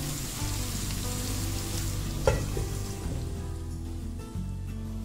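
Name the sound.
fish frying on low flame under a lid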